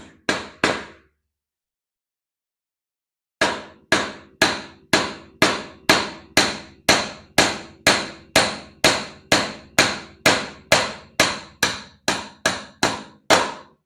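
Repeated hammer blows drive a wooden peg, mahogany, through a 1/4 inch hole: three strikes, a pause, then a long steady run of about twenty sharp, loud, evenly spaced impacts, with no voices.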